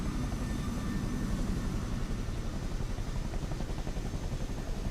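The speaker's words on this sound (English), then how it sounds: "We're going to appreciate the mass of giant amazingness that is this Chinook right now." Heavy rotor and turbine roar of a Chinook helicopter in Microsoft Flight Simulator 2024, flying near the port in Honolulu, a steady, dense, loud drone with a low throbbing pulse that holds unchanged throughout, with no voices.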